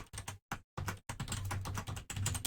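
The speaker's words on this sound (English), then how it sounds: "Are you typing?" Typing on a computer keyboard picked up by a microphone, with rapid close clicks in bursts and two short pauses, fairly quiet and with no talk.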